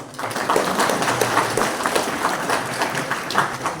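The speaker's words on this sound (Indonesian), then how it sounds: "tepuk tangan untuk dia" A crowd at a gathering of motorcycle taxi drivers in Tiom, Lanny Jaya, claps steadily in a dense burst of applause, fairly loud and continuous throughout, with no voices standing out.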